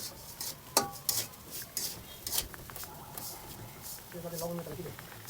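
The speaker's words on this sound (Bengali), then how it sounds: "তারপরে কাঁটা চামচ দিয়ে আমি এভাবে ফুটো ফুটো করে দিচ্ছি, কারণ ফুলে যেন না ওঠে।" A fork pricks and scrapes pizza dough on a plate, giving a few sharp close clinks and taps among softer rubbing sounds while someone talks over it.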